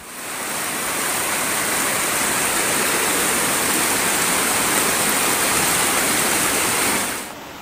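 Floodwater from the overflowing Ciganjeng River rushes past homes and rice fields in a steady, loud, broadband roar that holds for about seven seconds, with no voices.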